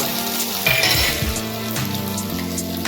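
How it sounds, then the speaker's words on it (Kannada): Mustard seeds sputter and crackle in hot oil in a pan for a sprouted moong dish, a close continuous sizzle with a few clinks of a utensil and no talk. "ಎಣ್ಣೆಯನ್ನು ಹಾಕ್ತೇನೆ ಅದಕ್ಕೆ ಸ್ವಲ್ಪ ಸಾಸಿವೆಯನ್ನು ಹಾಕುವ ಸಾಸಿವೆ ಸಿಡಿದ ನಂತರ"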